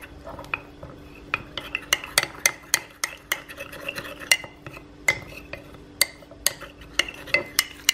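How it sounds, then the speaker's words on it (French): A whisk taps and scrapes steadily against a bowl while cornstarch is mixed into lemon juice, giving quick, light, rhythmic clinks that stay fairly faint and close, with no talk. "Je délaie la maïzena avec le jus de citron."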